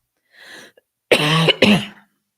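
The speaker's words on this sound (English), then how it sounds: "I've got to go to the doctor and knock this cough out" A faint brief noise, then two harsh, close coughs in quick succession, loud and dry, with no talking.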